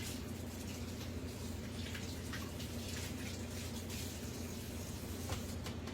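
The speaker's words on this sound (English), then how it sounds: "Let me rinse my hands." Tap water runs steadily while hands are rinsed in a farm kitchen, a low, continuous splashing rush with faint drips and uneven patter over the constant flow.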